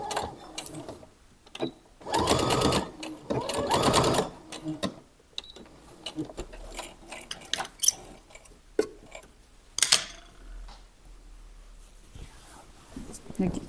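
A sewing machine runs in two short whirring bursts stitching a backstitch on a kimono top, followed by scattered clicks and handling noises, with a voice talking briefly in between.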